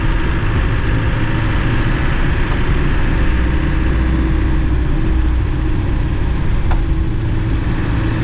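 A classic Land Rover Defender driving in a very low first gear, its engine giving a loud, steady low drone with continuous rumble from inside the cabin.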